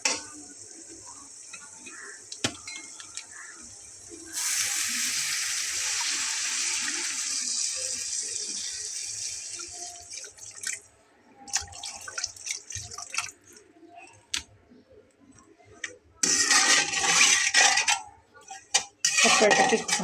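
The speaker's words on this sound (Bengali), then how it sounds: "চুলার আঁচটাকে একটু কম করে দিয়ে হালকা পাতলা নাড়াচাড়া করে আমি এটাতে পানি অ্যাড করব।" Water goes into a pan where a whole tilapia has been frying, bringing a burst of hissing sizzle alongside utensil clinks and drips, with a voice briefly heard.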